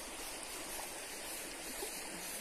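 A clear, clean mountain stream flowing as a steady, faint, even rush of water with no other sounds on top.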